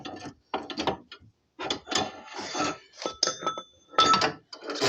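A ratchet tightens a car suspension part, likely a steering rack ball joint, in a garage, with uneven metallic clicking and clinking bursts up close, pausing between strokes.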